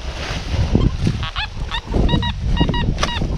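Metal detector giving a repeated warbling signal tone over buried copper, several short chirping bursts outdoors with wind and rustling ground noise.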